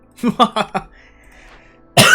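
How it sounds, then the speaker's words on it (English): A single sharp, loud cough bursts close into a microphone at the end, right after a stretch of speech. "Coughed right into the microphone, sorry."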